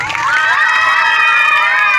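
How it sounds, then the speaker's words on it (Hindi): Children at a school Children's Day event shout and cheer together in a loud, close, sustained burst of high voices lasting about two seconds; clapping is not clearly distinct. "आप लोग ताली बजा के बताइए कि जो सीनियर भैया लोग हैं उनसे ज्यादा आपके ताली में दम"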